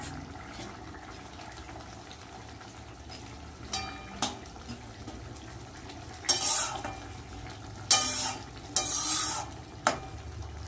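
Fried fish pieces go into a bubbling Bengali fish curry with green chilies. A low simmer runs throughout, and a few sharp splashy clatters come near the end, with no talk.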